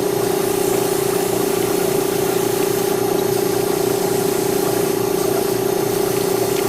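An airbrush sprays paint onto an MG 1/100 MS-18E Kampfer Gundam model kit, a loud continuous hiss over a steady humming drone that never lets up.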